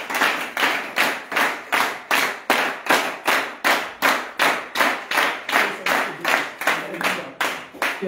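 Steady rhythmic clapping from a church congregation during worship, about twenty sharp claps in an even beat, loud and close with no talk over it.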